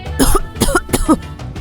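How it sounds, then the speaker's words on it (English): A few harsh coughs in quick succession, close and fairly loud, with no talking. "she coughed."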